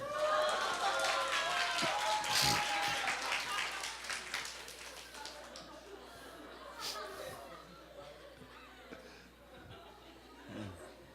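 A church congregation at a Korean Wednesday service claps as asked, a brief round of applause that fades into murmuring and quiet chatter.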